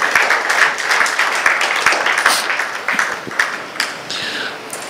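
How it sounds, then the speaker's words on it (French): A church congregation bursts into sustained applause for the Lord, many hands clapping together in a dense, steady roar that holds for several seconds before thinning toward the end. "Nous allons acclamer le Seigneur notre Dieu."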